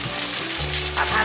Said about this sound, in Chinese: 锅内放入少许的油，油热了之后，放入香菜的梗